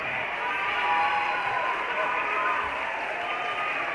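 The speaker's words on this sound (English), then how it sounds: "And the cheer you hear is for Gage McGee checking in for the Hawks." A crowd in a high school basketball gym cheers and applauds as a player checks in for the Hawks, a steady, fairly distant wash of noise with no clear peaks.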